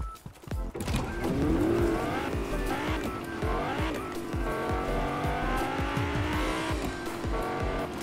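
Car driven in Fortnite, an engine revving up and holding a steady whine with shifting pitch, tires squealing briefly near the start, loud and continuous with no speech.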